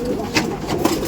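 Pigeon at a pigeon seller's in Brebes, Central Java, giving a short, close, throaty coo in two soft pulses within about a second.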